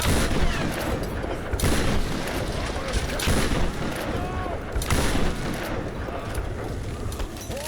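Gunshots in Tomb Raider (2013): a dense, loud barrage of repeated booming shots in several waves, with a voice talking over the din.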